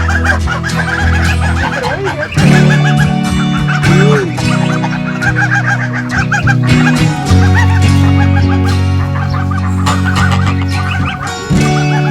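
Farm geese call loudly and close by, a busy overlapping chorus of honks and clucking cries that continues throughout.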